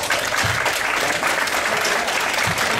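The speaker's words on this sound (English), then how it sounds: "please stand up and receive a round of applause for your donations" Steady applause from a convention audience at the Rainfurrest 2008 closing ceremonies, dense clapping that fills the whole stretch without pause, fairly loud and continuous.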